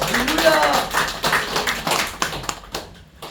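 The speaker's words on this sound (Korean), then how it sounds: "박수 한번 주세요" Scattered clapping from a small group, uneven and tapering off, with a voice talking over it.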